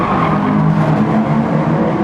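Toyota Corolla race cars with 130 horsepower at Tsukuba in GT Sport: a loud, sustained engine whine from a close pack of cars.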